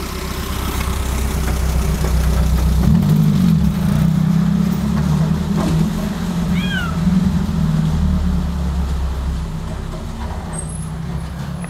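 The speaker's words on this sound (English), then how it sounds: "Okay, there are some cats. Can you hear those cats?" Cats meowing outdoors near an ancient cave monastery in a valley, a few short rising meows heard at moderate distance over a steady low engine rumble from a passing car.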